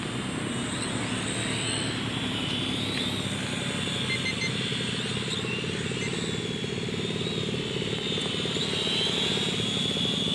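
A 4DRC F10 toy drone flies in to land, its rotors giving a steady, close whirring buzz that holds constant throughout with no voices.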